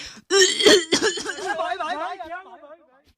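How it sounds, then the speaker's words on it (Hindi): A person clears their throat and coughs sharply a few times, then the sound trails off into a softer, voiced rasp. "खांसी हो रही थी बस"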